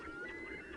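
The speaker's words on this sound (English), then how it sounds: "Other bird song or calls that I'm hearing mallards," Mallard ducks give short, nasal honking calls over a steady outdoor background, a brief, moderately faint burst with no talking.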